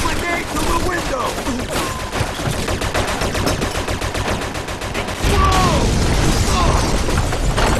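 Sustained machine gun fire from a Mafia II firefight in an urban street, with rapid, loud, continuous bursts and heavier booms. Voices shout over the shooting throughout.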